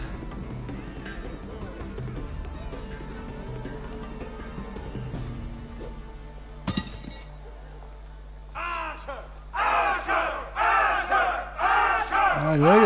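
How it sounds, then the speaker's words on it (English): An in-game crowd in a Telltale Game of Thrones episode roars and shouts in bursts toward the end, after clashing and clinking combat sounds, with loud battle cries over a steady low hum. "I know you're cheering my name."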